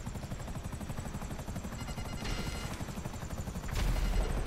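Helicopter rotor chopping steadily in the video game GTA V, loud and close throughout, with occasional gunfire bursts and a louder surge near the end.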